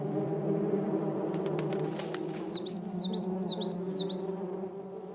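A steady, low drone of hornets or wasps hums throughout near a bee nest threatened by a crested honey buzzard, while a bird's repeated chirping rises over the buzzing midway through.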